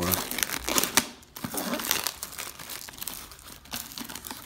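Packaging of an Intertool STORM ET-8046 46-piece tool set being opened: close, crinkling and crumpling plastic with sharp tearing snaps, and someone speaking over it.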